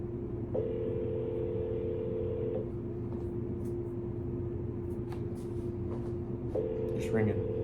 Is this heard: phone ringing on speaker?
yes